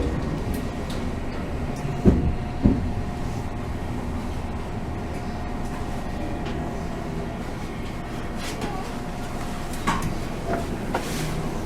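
Tozai Line train pulling into Nishifunabashi station, a steady low rumble of wheels and motors with a few sharp clanks and rattles early on, heard alone at moderate level.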